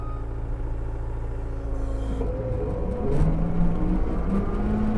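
A dump truck spreading gravel on a shed site rumbles steadily with a low engine drone and whir, growing slightly louder and rougher partway through, heard close with no voices.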